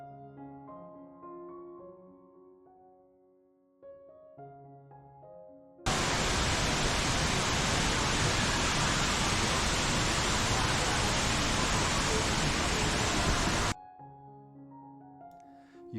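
Rain Vortex, the tall indoor waterfall at Jewel in Singapore's Shiseido Forest Valley, a loud steady roar of falling water that rises abruptly, holds for several seconds, then cuts away, with background music before and after.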